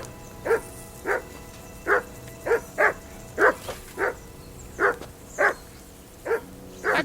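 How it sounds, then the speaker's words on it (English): A dog barks in the video game Kingdom Come: Deliverance II, about a dozen sharp, loud barks at fairly even intervals with no one talking. "That dog of yours is barking like the devil."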